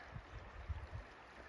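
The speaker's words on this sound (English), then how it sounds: "A big little waterfall here." A small mountain waterfall along the Athabasca Pass trail after rain gives a faint, distant, steady rush and gurgle of water, alone and without voices.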